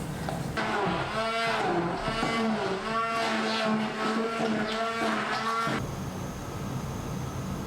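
A blender whirs loudly as it mixes a banana breakfast batter, its motor droning steadily for about five seconds before cutting to a quieter background.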